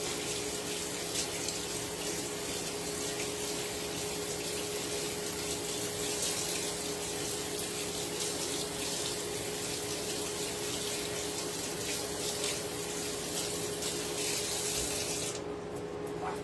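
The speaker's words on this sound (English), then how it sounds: "Wash hands." A kitchen tap runs steadily into a sink during hand washing, a continuous close hiss and splash that holds for the whole stretch and cuts off just before the end.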